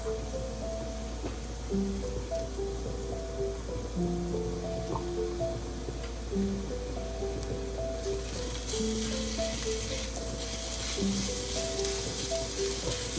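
Pounded garlic and ginger roasting with onions in a pan for aloo matar, a soft steady sizzle under intermittent tonal squeaks and scrapes from stirring.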